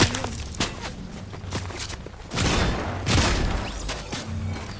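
Gunfire in Fortnite, a few sharp shots and heavier booming bursts, some close and loud, over a noisy game background with faint footsteps.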